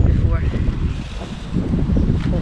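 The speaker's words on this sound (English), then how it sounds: "It's a bit breezy today" Breezy outdoor garden wind buffets the microphone in a steady low rumble, with a voice speaking faintly underneath.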